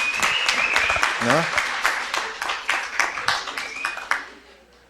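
A seminar audience applauds for a woman named Lili, a burst of many hands clapping, brisk and moderately loud, fading near the end while a voice speaks briefly over it.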